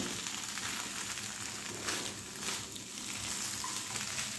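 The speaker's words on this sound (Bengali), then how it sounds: "এই লেবুর রসের সঙ্গে এই চিড়েগুলো আবারও খুব ভালো করে মিশিয়ে দিতে হবে" Flattened rice pulao being stirred with lemon juice in a pan, a vegetarian dish: a steady, quiet sizzle runs throughout with faint stirring scrapes and no voices.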